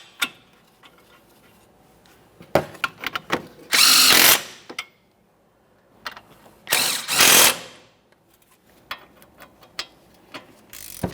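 Power tool snugging brake caliper mounting bolts on a 2014-2019 Toyota Corolla: two loud sustained bursts of driving, each preceded and followed by sharp ratcheting clicks and clanks of tool handling, close and without talk.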